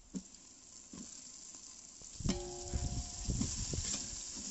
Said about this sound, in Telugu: ఇలా బ్రౌన్ కలర్ వచ్చేంత వరకు వేయించుకోండి ఆనియన్స్ని